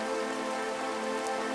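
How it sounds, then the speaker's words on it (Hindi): Heavy rain pours steadily with gusting wind, a dense continuous hiss of drops on surfaces filling the whole stretch without any talk. "इसी बीच तेज बारिश और हवाओं के बीच"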